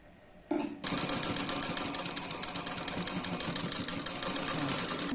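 A sewing machine stitches along the edge of a simple kurta, starting after a brief pause and then running steadily with a fast, even mechanical chatter. It is close and alone, with no talk.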